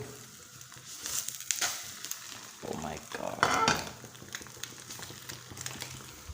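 A cracked egg spread out in a pan, frying with a faint, steady sizzle under occasional spatula scrapes and clinks, close but quiet.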